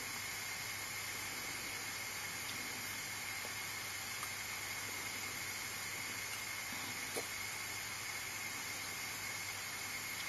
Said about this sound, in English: we only have a tiny amount of steam coming through